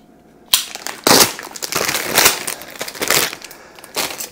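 A plastic contractor bag crinkles and rustles loudly while being hung up on a door during laundry room demolition, in several close bursts of crumpling with no talk.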